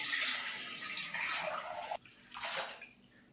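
About 1.5 litres of water pours in a steady, close gushing stream for mushroom pellet preparation, breaks off briefly, then flows again before stopping, with no voices.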